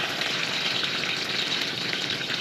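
Pork belly sizzles loudly in a hot pan, a dense continuous crackling hiss heard close up with no voices.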